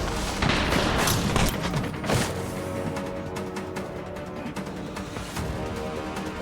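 Ship-mounted weapons of an Imperial Corsair fire in the space combat game Elite Dangerous, a rapid rattling barrage at first that eases into steadier, quieter clatter over a constant engine hum.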